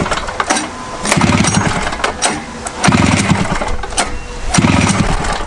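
A Rupp 440 engine, cold after sitting for weeks, cranks over and over in three loud bursts of sputtering, uneven running close by, each dropping back between attempts.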